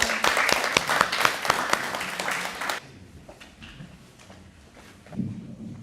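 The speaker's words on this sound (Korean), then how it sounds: "뜨거운 박수 부탁드립니다" Audience at a hospital lecture for cancer patients and families applauds a professor for nearly three seconds in a dense burst, then the clapping stops abruptly, leaving quiet room noise and shuffling.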